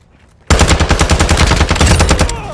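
Automatic weapon fire in Call of Duty: Warzone 2.0 DMZ, a loud, rapid, evenly spaced stream of shots that starts abruptly after a quiet moment and continues without pause to the end.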